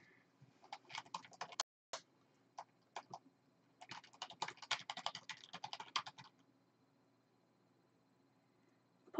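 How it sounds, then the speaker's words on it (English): Quiet keyboard typing during an art livestream: a few isolated key taps, then a quick run of clicking keys, with a rapid burst that fades into silence near the end. "Just gonna quickly type in chat."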